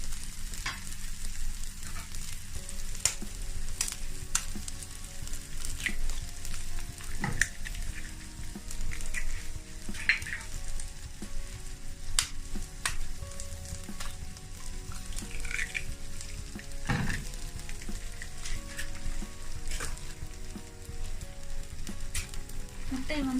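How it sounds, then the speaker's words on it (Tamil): Two eggs cracked into hot oil for street-style Tamil egg rice fry with a steady, moderate sizzle, broken by occasional sharp spits and faint clinks of a utensil throughout. "ரெண்டு முட்டையை உடைச்சி ஊற்றிக்கோங்க."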